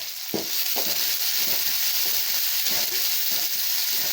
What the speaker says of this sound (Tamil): பாருங்கள், நிலக்கடலை போட்டதெல்லாம் வறுபடுதுங்க